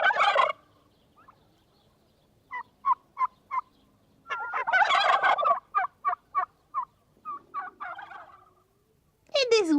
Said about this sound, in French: Des dindons.